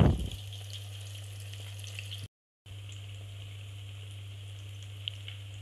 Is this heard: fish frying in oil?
yes